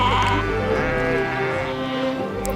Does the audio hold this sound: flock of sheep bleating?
yes